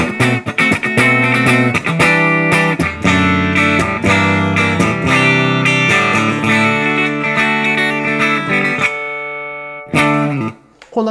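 A Bill Lawrence BL-1 electric guitar on its half-tone pickup setting, chords strummed and picked with a bright, slightly hollow tone, ringing steadily before cutting off near the end.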